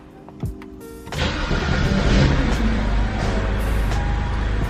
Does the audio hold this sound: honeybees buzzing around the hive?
no